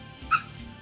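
A dog gives a single short yelp as it reacts to a mild electric shock during snake avoidance training against tiger snakes, the brief sharp cry standing out near and alone over quiet background.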